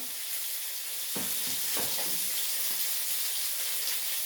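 Bori lentil dumplings frying in oil make a steady, close, broadband sizzle throughout, with a few soft stirring clicks early on.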